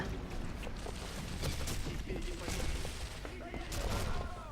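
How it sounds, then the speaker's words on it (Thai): Dense, continuous gunfire from the Sniper Elite V2 video game during a co-op mission, a steady clatter of shots with booming impacts that keeps up for the whole stretch at an even, loud level. "โหปืนมันสาดมากอะเฮียอย่างกับปืน"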